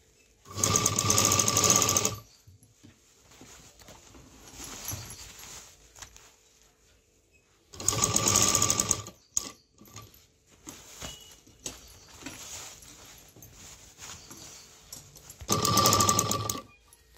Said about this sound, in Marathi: तर आता हा पुन्हा हे स्ट्रेट शिलाई करून घ्यायचे आहे.